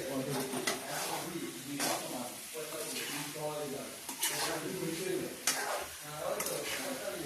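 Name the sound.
spiced meat being sautéed (kosha) in a pan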